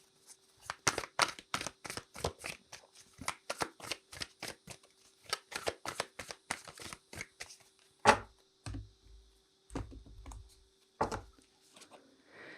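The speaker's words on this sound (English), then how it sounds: "So I'm going to pull a card for the animal spirit medicine for the week." Tarot cards are shuffled and pulled for a weekly reading: a long run of close, crisp riffling flicks in rapid rhythm, then a few slower snaps and soft thuds as cards are drawn and laid down.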